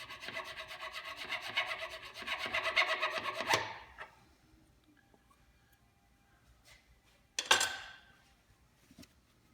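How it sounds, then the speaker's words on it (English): A flat file rasps against a metal wheel bearing spacer to cut a notch, producing close, harsh scraping strokes for a few seconds, then near silence, then one brief final stroke. "just take a flat file and make a little notch in the spacer"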